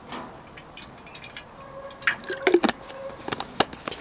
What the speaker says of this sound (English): I'm going to put not a lot of water, just a bit